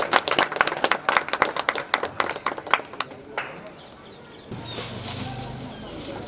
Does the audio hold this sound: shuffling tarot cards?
no